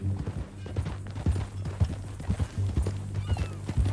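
Horse hooves clip-clopping at a steady walking rhythm in the Red Dead Redemption 2 video game, close and fairly loud, with a low background hum and no talking over the steps.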